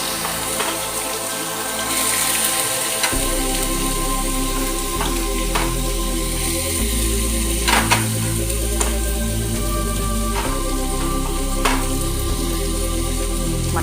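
Onions frying in oil for a spicy mutton curry, a steady close sizzle that carries on throughout, with occasional clinks and scrapes of a spoon against the pan and no talking.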